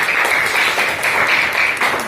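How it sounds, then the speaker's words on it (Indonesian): A classroom of students applauds a classmate, a lively burst of many hands clapping close by, fairly loud and continuous with small surges. "Berikan tepuk tangan untuk teman kita."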